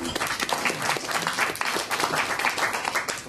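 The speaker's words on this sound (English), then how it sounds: "that's well worth a round of applause" A room full of people applauds, dense rapid clapping that stays steady and fairly loud throughout.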